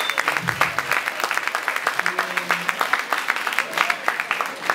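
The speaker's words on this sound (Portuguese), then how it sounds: "Podem bater palmas para o serviço de limpeza" An audience at a talent show gives a steady round of applause, dense rapid clapping sustained throughout with a few voices heard briefly over it.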